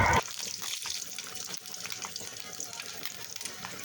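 Small puti fish fry in oil in a pan with a steady, fairly close crackling sizzle. A brief clatter at the start leads into a dense hiss that runs throughout.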